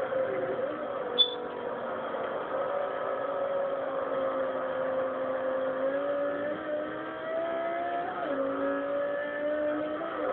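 Race car engines in a Forza video game race at Sebring whine continuously, pitch slowly rising and falling as the car accelerates, with a brief sharp tick early on and no talking.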